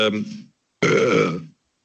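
Two loud burps from a man, a short one followed by a longer drawn-out belch, close up in a studio podcast setting with no talk over them.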